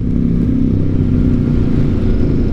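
Harley-Davidson motorcycle riding down the road, its loud, steady engine rumble continuous and close throughout with no talking.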